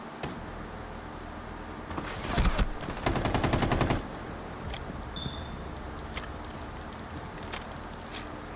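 Rainbow Six Siege gunfire: scattered single shots, then two dense automatic bursts in the middle, followed by a few more isolated cracks against quiet game ambience.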